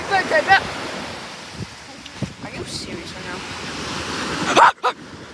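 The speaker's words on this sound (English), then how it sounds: "Hopefully the waves don't sound too loud." Ocean waves break and wash steadily onto the shore, a broad roaring surf up close with some wind buffeting, while faint voices can be heard briefly.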